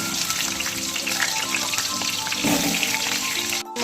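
Potatoes frying in hot mustard oil in a wok, a loud, dense, continuous sizzle heard up close, with a brief dip near the end.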